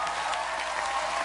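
Steady, dense audience applause at a concert, a continuous wash of clapping hands filling the whole moment without voices.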